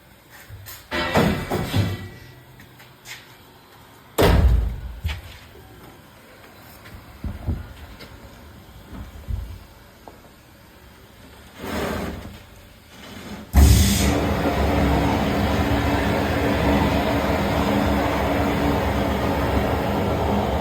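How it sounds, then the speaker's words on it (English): Vapor blasting cleans car exhaust pipes: a few short bursts of hissing spray, then from about halfway through a loud, steady wet-blast roar that runs unbroken to the end. No one speaks. "So we'll move on to the wet blaster."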